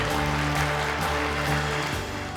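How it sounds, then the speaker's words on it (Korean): A crowd at a Busan Buddhist New Year ceremony claps in a second round of applause after an Expo bid agreement is signed. The continuous, strong clapping sits over sustained background music. "다시 한 번 더 힘찬 박수 보내주십시오"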